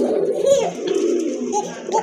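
A male Koka pigeon coos in low, throaty, repeated calls from close by, steady and fairly loud throughout, with a faint voice in the background.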